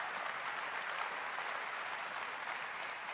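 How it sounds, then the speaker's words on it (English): Steady crowd cheering and applause from an Apple TV sports video game, a dense continuous roar of clapping and whoops holding at constant loudness throughout with no talk over it. "And the crowd goes wild."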